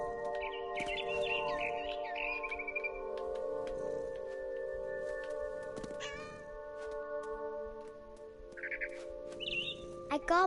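Birds chirp in a tree in a game, bright twittering calls at moderate distance over a sustained tonal music bed, with a cat-like meow mixed in.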